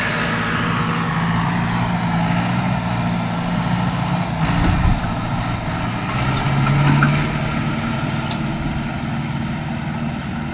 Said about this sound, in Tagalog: At ang pag-araro ito sa atin,